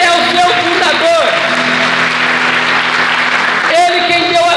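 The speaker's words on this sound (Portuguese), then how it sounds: "pode aplaudir ela pelo seu fundador, que é Cristo Jesus" A church congregation applauds loudly and continuously during a sermon, the clapping mixed with a preacher's voice speaking over it.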